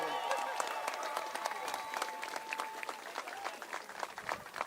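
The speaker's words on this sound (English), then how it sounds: "Let's give them a big round of applause" Applause for beach lifeguards at a live outdoor unveiling of a Pride lifeguard tower, steady dense clapping from a crowd with some voices mixed in throughout.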